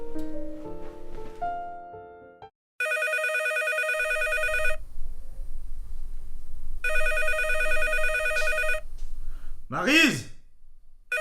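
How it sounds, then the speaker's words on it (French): A telephone rings in two long electronic trills in a home, with quiet room noise between them, then a short breathy vocal sound at the end. "Téléphone!"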